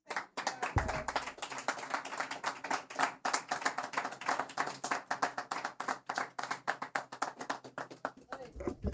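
Live-stream event crowd giving a round of applause, sharp, close hand claps in a fast, busy rhythm for about nine seconds, loud and crisp, with brief voices at the start and end.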